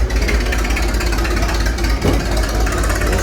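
A steady 3.5 horsepower hit-and-miss engine from about 1900, built in Buffalo, New York, with hot tube ignition, runs continuously, a low mechanical chugging hum with even rhythm throughout, close and fairly loud.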